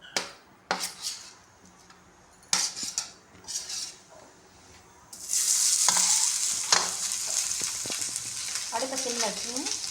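Utensils clink against a pan on the stove before food drops into hot oil and erupts into a loud, sustained sizzle, with stirring scrapes continuing while taro root fries.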